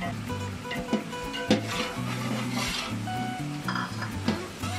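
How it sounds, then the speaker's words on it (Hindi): Tomatoes and green chillies stirred in a cooking pot, soft scraping and a few sharp utensil knocks against the metal over a low simmering background, close and unaccompanied by speech. "टमाटर नरम होने तक मैं इसको हिलाता रहूँगा ताकि नरम हो जाए"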